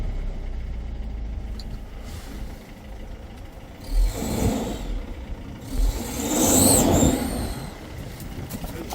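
A 2010 Mercedes Sprinter van engine idles fast and steady, a close low rumble that swells briefly around the middle and again toward the end, with no talk over it.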